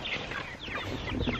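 Meat chickens chirp and cluck in a steady, busy chorus on a farm, soft but continuous across the short stretch with no talking.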